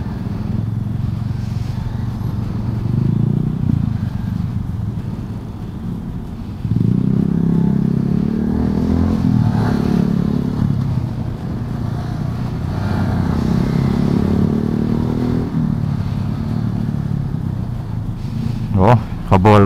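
A Yamaha MSlaz motorcycle ridden hard through traffic, a loud steady engine drone mixed with heavy wind rush, rising and falling with throttle, with other traffic noise around.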